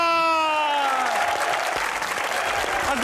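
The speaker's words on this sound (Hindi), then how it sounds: "तालियों में रुमैसा खान" A studio audience on a talk show bursts into loud, dense applause welcoming guest Romaisa Khan, with a voice trailing off at the start before the clapping dominates.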